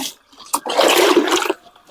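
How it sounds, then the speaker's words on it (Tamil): Water splashes onto the base of a snake gourd plant in a farm plot, a short, close pour of about a second preceded by a few small splashes. "தண்ணி ஊற்றுறோம் பாருங்க."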